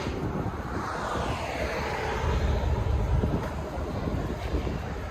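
A deep, steady rumble comes from the 5.3L V8 exhaust of a Chevy Avalanche, running continuously at moderate loudness with a faint rising tone and some wind noise.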